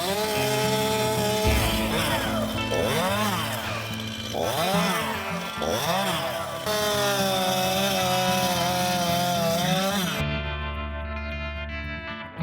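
A chainsaw bucking and limbing a felled tree in deep snow, its engine loud and close, revving up and down in repeated surges while cutting, then dropping to a rough idle at the end.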